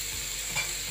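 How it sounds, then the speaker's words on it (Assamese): Fish frying in a pan, a steady close sizzle and crackle of oil with a brief swell of stirring midway, no talking. "সেইটো ফ্ৰাই কৰি দিছোঁ অকণমান ফ্ৰাই কৰিলোঁ"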